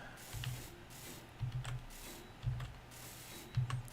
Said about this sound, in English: let's weld this thing up